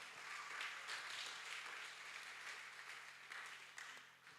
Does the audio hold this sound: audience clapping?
yes